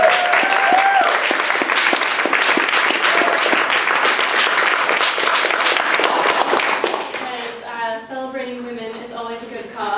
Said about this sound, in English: we need to give a big round of applause to Rachel for putting this together